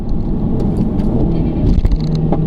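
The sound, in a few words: Mini Cooper S engine revving with rev matching in sport mode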